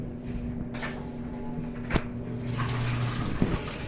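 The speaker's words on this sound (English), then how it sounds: "And now it's filling up with water while it's agitating." An Amana washing machine fills with water while agitating, giving a steady low hum and running-water hiss with a faint knock or two, heard close and alone.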